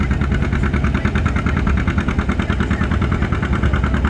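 An antique tractor engine runs steadily at a tractor pull, a loud, close, continuous putting chug with an even rhythmic pulse and no pauses.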